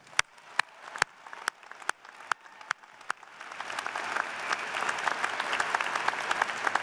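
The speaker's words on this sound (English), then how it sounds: "give yourselves a big round of applause" Graduates of the class of 2018 applaud at a university commencement ceremony, starting with a few loud separate claps that swell into sustained, dense applause filling a large venue.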